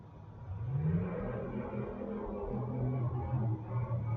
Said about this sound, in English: I think it's a car revving his engine.